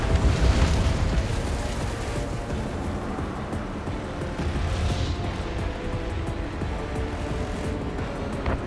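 An enemy UAV explodes in the jet combat game Ace Combat 7, a deep, sustained roaring boom that rumbles over a constant engine-like wash, loud and continuous for several seconds.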